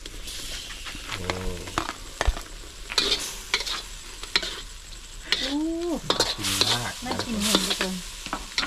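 Fish meat stir-fried in a pan makes a close sizzle broken by repeated clicks and scrapes of a spatula on the pan, with a few short voice sounds in between.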